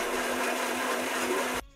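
A mixer grinder whirs loud and steady, grinding roasted spice masala powder for chicken donne biryani, then cuts off abruptly near the end.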